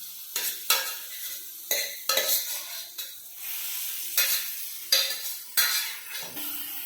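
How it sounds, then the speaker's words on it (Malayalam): Tapioca is stirred and wilted in a pan with a spoon, giving repeated sharp scrapes and knocks against the metal at an uneven rhythm over a soft sizzle. "നമ്മൾ കപ്പ ഇട്ട് വാട്ടാൻ പോവാണ്."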